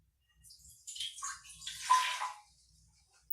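Water pours into the metal inner pot of a 6-quart Cosori pressure cooker, a short gurgling splash that builds and then stops, followed by a single sharp clink.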